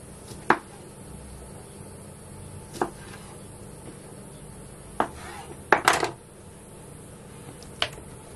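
Sharp knife chops on a cutting board while meat marinates, sparse and uneven, with a cluster of quick strikes near the middle, close and fairly quiet in an otherwise still kitchen.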